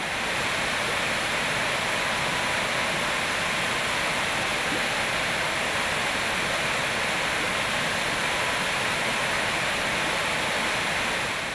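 A 120-metre waterfall known as the rainbow waterfall roars in a steady, dense wash of falling water, loud and unbroken throughout.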